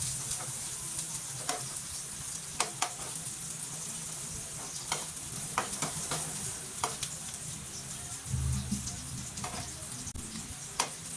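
Garlic, onion and ginger sauté in a pan, a steady hissing sizzle running throughout, broken by scattered sharp spatula taps and scrapes, with a brief low bump near the end and no voices.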